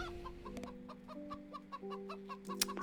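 Chicken clucks in a farm video game: short, repeated clucking calls scattered across a few seconds over steady sustained background music tones, with no talking.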